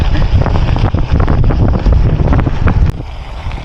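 Strong wind roars and buffets the microphone during a gravel bike race, a loud, continuous rushing with low rumbling gusts.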